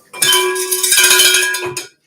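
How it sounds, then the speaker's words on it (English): A classroom bell rung for late work sounds as a loud, close, clanging ring with a bright metallic tone, struck in quick repeated shakes for about two seconds before stopping abruptly. "you gotta ring the bell"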